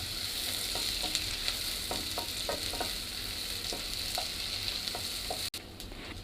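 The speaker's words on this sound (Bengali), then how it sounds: "পেঁয়াজটাকে আমি হালকা একটা কালার যতক্ষণ পর্যন্ত না আসে ততক্ষণ পর্যন্ত ভেজে নেব" Onions with cinnamon and cardamom fry in a pan for bhuna khichuri, giving a steady, close sizzle. Stirring utensil scrapes and taps break through at irregular intervals, and no one speaks.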